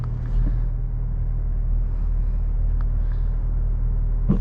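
A 2020 Mazda3 AWD pulls away in deep snow, its engine a steady low rumble that holds at an even, moderate level throughout with no voices.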